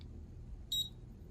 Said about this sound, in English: Now when you hear the beep and it's a 2-line, you stop